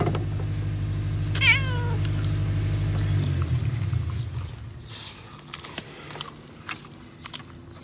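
A cat gives one clear rising-and-falling meow close by near the start, set against a low engine-like drone, followed by scattered soft clicks and chewing noises.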